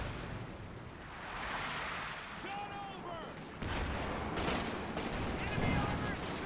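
Artillery barrage in Company of Heroes 2 hammering a grain silo area, with overlapping booms, gunfire and rumbling explosions, dense and continuous, under a commentator's talk.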